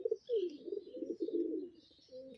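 Pigeons coo in a soft, low, rolling warble close by, a couple of continuous throaty calls lasting a few seconds, with a faint higher chirp above.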